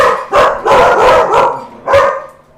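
A six-month-old Caucasian Shepherd puppy at a large-breed kennel farm barks four times, loud and close, in quick deep woofs with a brief pause before the last.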